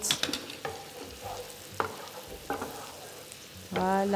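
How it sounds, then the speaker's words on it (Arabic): Vegetables and omelette fry in a pan with a bright, continuous sizzle and repeated scrapes of a spatula stirring them; a voice briefly speaks near the end. "كل ما تشد روحها شويه لومليت نتاعنا نخلطوها"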